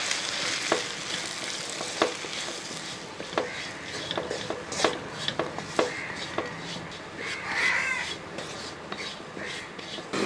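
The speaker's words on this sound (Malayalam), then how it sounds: "ഇനി ഈ പൊടികളും ഈ സാധനം എല്ലാം ഒന്ന് നല്ലപോലെ ഒന്ന് കൂട്ടി മിക്സ് ചെയ്തെടുക്കണം" Spice powders being stirred and fried into a Kerala-style beef curry in a pan, with soft sizzling under repeated sharp scrapes and taps of a spoon against the pan.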